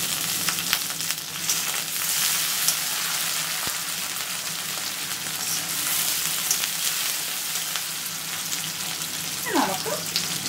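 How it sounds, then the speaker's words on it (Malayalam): Curry leaves fry with ginger and garlic in a pan of hot oil for a crab masala, giving a steady, close sizzle throughout, with a brief clink of a utensil near the end. "ഇനി നമുക്കിതിലേക്ക് കറിവേപ്പില ഇട്ട് കൊടുക്കാം."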